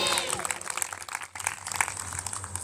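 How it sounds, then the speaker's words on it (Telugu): A church congregation claps together while calling out amen at the end of a prayer, a dense, steady patter of many hands mixed with voices filling the hall. "చప్పట్లు కొడుతూ చెబుదాము ఆమేనని."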